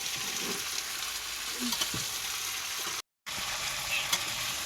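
Vegetables cook over a clay chulha while being stirred: a continuous frying sizzle runs throughout with soft scraping and clinks, broken by a short silent gap before the hiss resumes.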